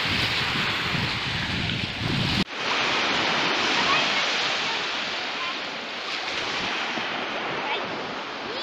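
Baltic Sea surf rolling onto a beach near Zelenogradsk in the Kaliningrad region, a loud, continuous wash of breaking waves mixed with gusty wind buffeting close to the microphone.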